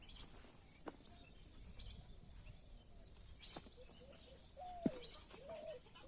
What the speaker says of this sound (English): Birds are giving murmuring voice, very soothing and very melodious.